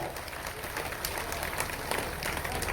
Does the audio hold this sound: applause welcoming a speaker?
yes